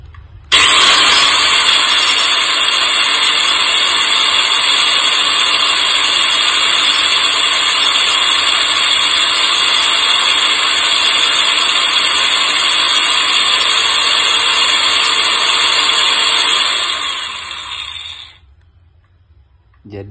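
A Mailtank SH05 handheld angle grinder switches on with a sudden loud whine and runs steadily at high speed for about seventeen seconds, then spins down and fades near the end.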